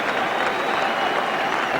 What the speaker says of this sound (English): Well, the crowd are pleased about that. They're cheering that fact.